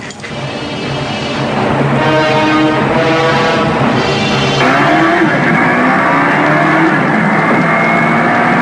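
A car engine hums and revs steadily, with tonal engine whine shifting pitch as it drives, loud and close, no voices.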